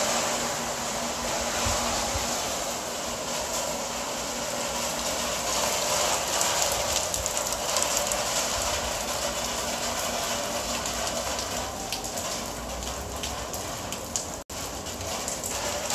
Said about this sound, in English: it started raining really hard, and just as quickly as it came, it's already gone. You can barely hear it.